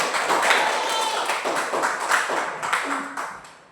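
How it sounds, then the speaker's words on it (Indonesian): A classroom of students claps their hands in a lively burst of applause that gradually fades out, with faint voices underneath. "Tepuk tangan untuk kalian"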